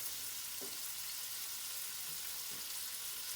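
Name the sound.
bacon lardons frying in a pan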